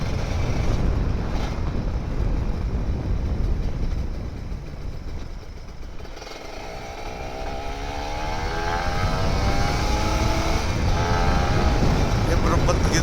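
Kawasaki Ninja RR 150 two-stroke motorcycle engine on a morning ride in rain, a loud steady droning roar that dips briefly and climbs again as revs rise, with wind rush throughout.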